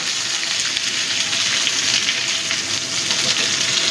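Moringa drumsticks frying in a pan for a milk-based sukto, a steady dense sizzle that continues evenly and close throughout without any talk.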